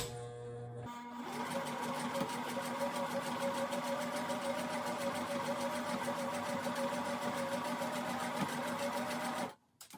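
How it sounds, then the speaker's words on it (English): A sewing machine runs a zigzag stitch over yarn and string edges for a cat tree house, a steady rapid mechanical chatter lasting about nine seconds before stopping, heard alone and up close. "So we're doing a zigzag stitch to grab as many of the pieces of string as we can"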